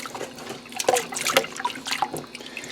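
Water sloshing and splashing in short irregular bursts as salt is stirred into it to make a brine for soaking goose meat.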